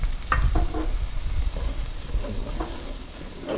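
Flour being stirred into wilted vegetables in a hot pot for a roux, with a steady sizzling fry and intermittent scraping stirs close by, fairly loud throughout.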